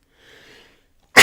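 A single sharp sneeze bursts out loudly at the very end, preceded by a faint breathy inhale and near silence, close to the microphone.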